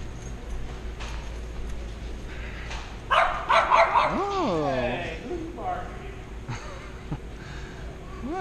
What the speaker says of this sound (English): That puppy bark at you.